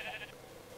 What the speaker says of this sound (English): We need to breed the sheep.